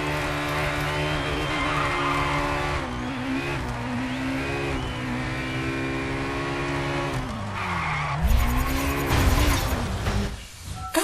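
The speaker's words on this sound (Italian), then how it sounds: "non derapava così di merda l'ultima volta che l'ho usata. Perché adesso derapa così da cane?" A car in the GRID racing video game skids with long tyre squeals over a loud, constant engine drone, the pitch sliding as it slews before a harsh crash-like burst near the end.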